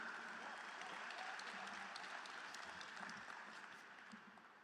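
Audience clapping at the Roxbury Community College 46th annual commencement ceremony: a dense, steady wash of many hands, fairly distant and soft, tapering off toward the end.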